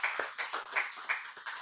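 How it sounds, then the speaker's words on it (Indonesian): A church congregation claps hands during a worship service, a quick run of uneven, slightly scattered claps over about a second and a half, fairly close and moderately loud. "Tepuk tangan dulu saudara buat Tuhan Yesus, saudara"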